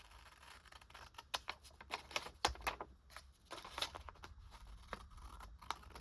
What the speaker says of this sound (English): I have to cut that tape off